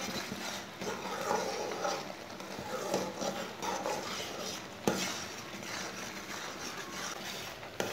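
A spoon stirs peach jam cooking in a pot, giving soft, continuous scraping and faint bubbling with a sharper clink near the middle; quiet and close, with no talking.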